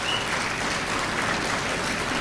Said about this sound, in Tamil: கைத்தட்டுறது என்பது ஒருவரை பாராட்டுவது மட்டுமல்ல